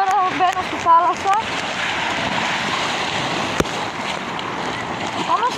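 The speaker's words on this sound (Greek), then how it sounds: "έφτασα στην παραλία. Ωραία παιδιά, είμαι με τη μάσκα, τώρα μπαίνω στη θάλασσα." Sea waves wash and hiss at a beach as someone wades into the water, a continuous close rush with a few splashes, while a person talks briefly near the start.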